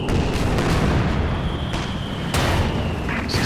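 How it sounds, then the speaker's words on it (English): A Werfer rocket artillery barrage in Company of Heroes 2 rumbles as a dense, continuous wash of explosive booms, with sharp impacts punching through near the middle and end. "Coordinate barrage from the Werfer."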